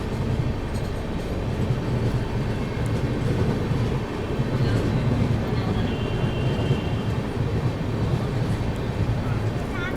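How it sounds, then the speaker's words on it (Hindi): The Gitanjali Express rolls into Jalgaon Junction with a steady rumble and rhythmic wheel clatter, loud and continuous, with voices talking over it. "अपनी गीतांजलि एक्सप्रेस अराइव कर रही है जलगांव जंक्शन"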